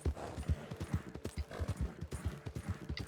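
Horse hooves clip-clopping at a steady walking pace in the Western game Red Dead Online, a close, regular rhythm of hoof strikes on the ground running throughout without talk.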